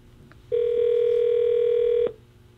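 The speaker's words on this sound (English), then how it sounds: "Let me dial it up." A telephone sounds a single steady dial tone for about a second and a half, loud and clear with a faint hum behind it, as a number is called from an office line.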